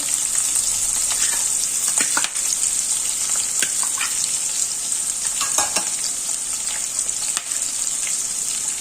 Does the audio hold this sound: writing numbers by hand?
no